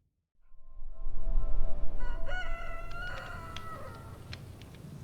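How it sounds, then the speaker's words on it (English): A Minecraft rooster crows once in a long, drawn-out morning call over a low rumbling background, loud and close, with the call fading at the end. "There's the sound of the morning rooster."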